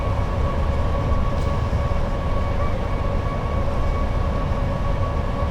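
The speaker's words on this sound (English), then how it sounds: "And here is an 87 mail train." A Class 87 electric locomotive hauls a mail train at speed, producing a loud, steady rumbling roar with constant wheel and rail noise and a faint tonal whine throughout, heard close from on board.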